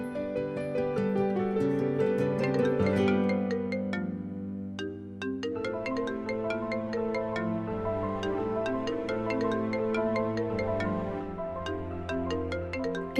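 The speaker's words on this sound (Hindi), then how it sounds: "किसका फोन है? उठा क्यों नहीं लेती?" A phone ringtone plays as a steady melodic electronic tune, loud and continuous for about thirteen seconds with no talking over it.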